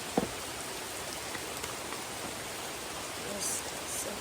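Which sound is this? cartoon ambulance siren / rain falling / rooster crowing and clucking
rain falling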